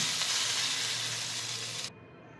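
A loud, steady sizzle of hot oil tempering with turmeric poured over chutney, then it cuts off abruptly near the end, leaving quiet.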